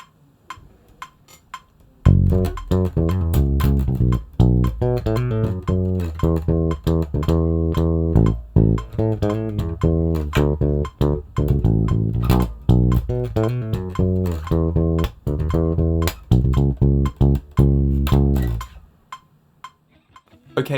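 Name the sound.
bass guitar riff played at full speed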